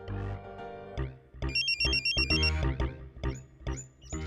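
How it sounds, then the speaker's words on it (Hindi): A phone rings in a home during a Hindi comedy scene, its electronic ringtone repeating in short bursts over background music, fairly loud and close. "फोन बजा"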